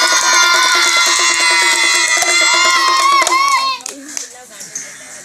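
Village crowd of children at a street magician's show in Pilibhit, Uttar Pradesh, clapping hands loudly and rhythmically amid shouting and cheering, with a voice over it, then the claps thin out into scattered slaps.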